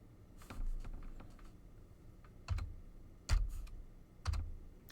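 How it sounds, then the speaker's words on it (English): Keys on a computer keyboard tapped close by in short irregular bursts, several sharper louder clacks standing out over a quiet background, no speech. "I'll type 2"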